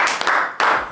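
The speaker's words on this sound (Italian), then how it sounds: "Un applauso." Hands clap in a short burst of applause, two quick sharp bursts of clapping from a small group, close and fairly loud, lasting about a second with no talking.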